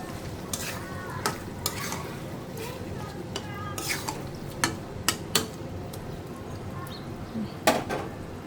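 Fish and potatoes sautéing in a pan with okra nearby, a constant close sizzle broken by repeated sharp scrapes and clinks of a spatula stirring against the metal.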